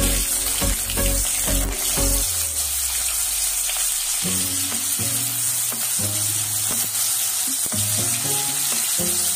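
Bitter gourd pieces drop into hot oil seasoned with mustard seeds and asafoetida, setting off a loud, dense sizzle that carries on throughout, broken by rhythmic clatters and stirring, close up and without voices.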